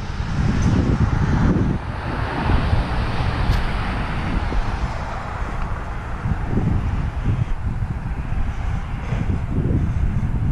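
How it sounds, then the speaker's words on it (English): Steady wind roars and buffets the microphone throughout, a dense low rush with gusty swells and no voices, outdoors by the Black River Canal locks in Port Leyden, New York. "It's trying to rain on me, it's kind of windy."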